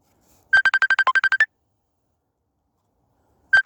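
An incoming call rings on a phone with a fast burst of about ten crisp electronic tones in a rapid melodic pattern. A long pause follows, then the ringtone starts again at the very end.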